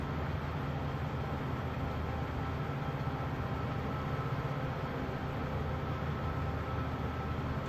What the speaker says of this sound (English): there's no way you'd be able to get a train like mine at 50 miles an hour through here